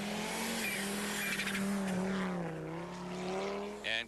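A rally car brakes hard on a gravel road stage at the 2000 Rallye Perce Neige, its engine note falling with loud tire scrub and gravel crunch, close and continuous with no talk.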